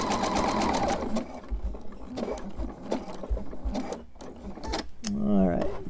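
A sewing machine stitches a coiled rope trivet wrapped in scrap fabric, its motor running in steady bursts with brief pauses, close and clear, while a person talks over much of it.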